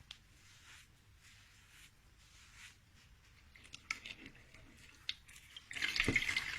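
Water is splashed to rinse the face and neck, with faint drips at first, then scattered patters and trickles building into a closer splash at the end.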